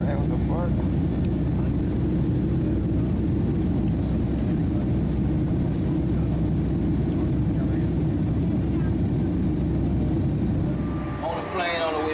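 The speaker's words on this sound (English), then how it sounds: "On a plane on the way to Rochester" A constant low roar of airplane cabin noise fills the flight to Rochester, New York, with steady engine rumble throughout. Faint voices are heard briefly near the end.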